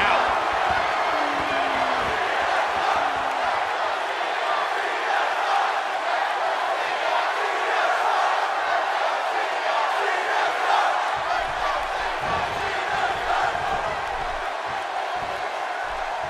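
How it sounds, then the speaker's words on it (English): A WWE Raw wrestling arena crowd roars in a sustained, loud wall of cheering and shouting that fills the whole stretch, with a few thuds and whistles rising through it. "Would you listen to this crowd show their appreciation for these amazing competitors?"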